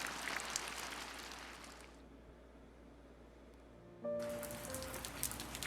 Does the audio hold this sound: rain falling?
yes